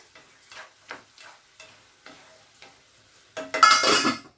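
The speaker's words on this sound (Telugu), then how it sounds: "ఒకసారి కలుపుకుందామండి" Chana dal and brinjal curry is stirred in a pot with soft, regular scrapes about twice a second, ending in a louder, longer scrape.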